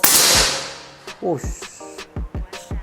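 Air rifle fires a single sharp shot at the start with a short hiss after it, followed by several quick clicks and clacks, with someone speaking briefly between them.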